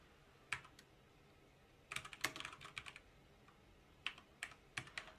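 Typing Java code on a computer keyboard: quiet background hum broken by scattered clicks, then quick bursts of keystrokes, close and fairly soft, with no talking.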